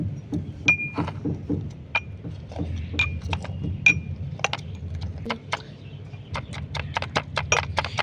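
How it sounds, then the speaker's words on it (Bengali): A rolling pin pressing and crushing lemon and mint leaves in a glass for a mocktail, producing repeated knocks, taps and bright glassy clinks in an irregular rhythm, close and moderately loud, with no talking. "বেলন দিয়ে এইভাবে একটু হালকা হাতে লেবু আর এই পুদিনা পাতাটাকে এইভাবে একটু চিপে রস বের করে নিতে হবে"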